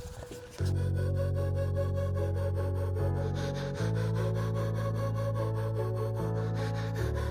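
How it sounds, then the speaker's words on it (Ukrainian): Sandpaper rubbing by hand over a paint chip on the body of an Opel Astra H, a steady close grinding scrape that runs continuously with slight shifts in stroke and no talk. "беремо наждачку і затираємо"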